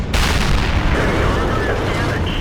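A heavy Sturer Emil tank destroyer gun firing in World of Tanks: one loud, close blast that rolls into a long, dense rumbling decay.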